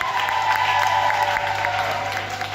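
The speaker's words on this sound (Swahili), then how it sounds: "Jamani makofi kwa Bwana Yesu" A church congregation claps in dense, continuous applause that fills the room for a couple of seconds before easing slightly.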